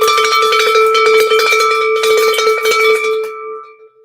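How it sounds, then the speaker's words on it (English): A hand bell is rung at a live gem and jewelry sale, giving a loud, steady metallic ringing with a clear tone that sustains for about three seconds and then dies away. "I think I needed to ring the bell earlier too"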